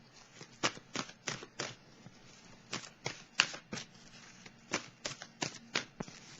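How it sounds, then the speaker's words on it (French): Tarot cards shuffled by hand in a series of quick, crisp riffling bursts separated by short pauses, close and fairly quiet with no talking. "Je vais piger une autre carte."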